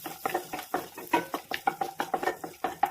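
Cashews frying in a pan with garlic and ginger for paneer butter masala, quick repeated spoon scrapes and clinks in a steady stirring rhythm over a faint sizzle.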